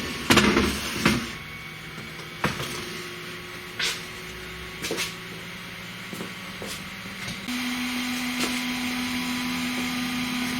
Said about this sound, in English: that whirring that you can hear actually is the little fan on top of the laser and the little fan on the laser circuit board, and also the fan going on the Arduino board